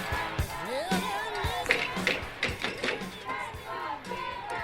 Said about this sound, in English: As the crowd starts up again